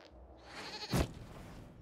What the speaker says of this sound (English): we discovered this man attacking the building with a